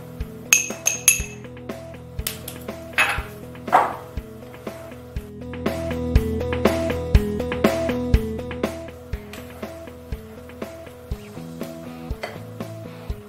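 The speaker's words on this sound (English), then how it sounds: "mix through the 40 grams of parmesan" A utensil clinks repeatedly against a glass bowl while parmesan is mixed into cornbread batter, with irregular bright taps and scrapes over steady background music.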